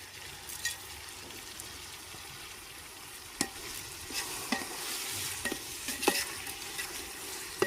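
Biryani masala is stirred in a frying pan over a steady sizzle, with occasional sharp scrapes and knocks from the spoon; no one talks.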